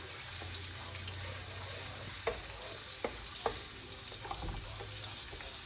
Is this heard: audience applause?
no